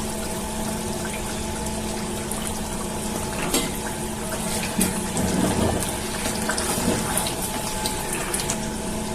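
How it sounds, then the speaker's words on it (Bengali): Vinegar pours into a garlic pickle as a continuous, close liquid splash and trickle that lasts several seconds at an even level, with no talking. "দিয়েছি আমি হাফ বাটি সিরকা।"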